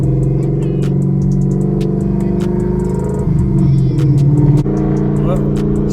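A Ford Mustang GT engine and exhaust rumble steadily close by with a deep, loud idle and a brief shift in tone midway. Other sharp sounds overlap it.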